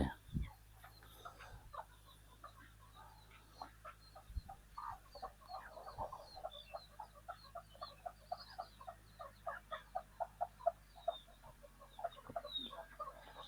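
Bantam hens and chickens kept at a hut beside a rice paddy cluck steadily in a fast, busy rhythm, moderately close, over quiet rural background hum with a few sharper calls.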